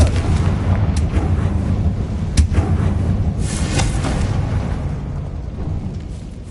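Confringo, a blasting spell, goes off in Hogwarts Legacy: a dense, rumbling barrage of booming blasts with a sharp crack near the middle, loud and continuous with no talk.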